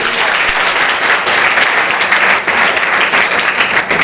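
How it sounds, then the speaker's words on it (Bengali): An audience at a prize-giving ceremony at Govt. ITI Ranibandh, Bankura claps loudly and continuously, a dense, even wall of applause with no pauses from start to finish. "একটা হাততালি দাও ভাই"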